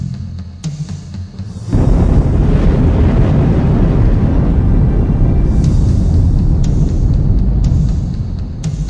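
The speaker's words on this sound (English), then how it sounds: "Magnificent mountains explode as a result of the volcanic pressure beneath them." A volcanic eruption blasts a mountain apart, with a deep roaring rumble that surges in loudly after a quieter opening and holds as a continuous, powerful wall of noise before easing slightly at the end.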